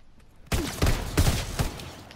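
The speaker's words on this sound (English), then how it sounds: "Looks like a shotgun." Shotgun blasts in Call of Duty: WW2 go off loud and close, about four heavy booming shots spaced roughly a third of a second apart, each with a sharp crack and rumbling tail.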